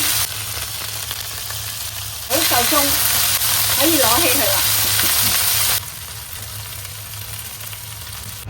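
Chicken wings pan-fry in hot oil with a continuous sizzle that swells louder midway, then settles back to a steady crackle, while a person speaks over it.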